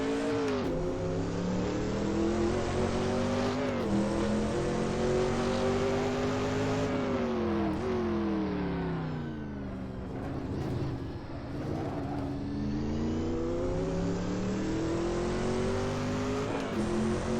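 A Group C race car in a sim racing game revs hard on its outlap, the engine note repeatedly climbing and falling through the gears, loud and continuous throughout.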